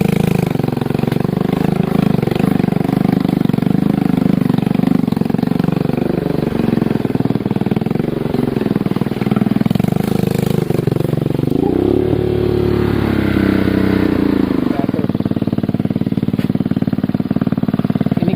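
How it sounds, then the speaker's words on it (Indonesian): A motorcycle ridden one-handed on an extreme, rough forest village road roars loudly and steadily, its engine note rising and dipping with throttle changes amid rattles and scrapes, with no talk. "dengan mengendari motor tangan satu dengan kondisi jalan yang ekstrim"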